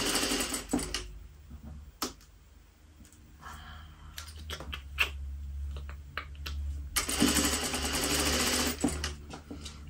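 A domestic sewing machine stitching the fly of Claude pants in a nasty, tricky fabric with a long basting stitch; it runs in short stop-start bursts, then settles into a steady, loud whirring run near the end.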